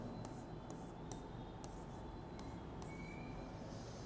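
Handwriting during a reasoning lesson gives quiet, repeated short strokes and taps over a steady low background hum, with no voices.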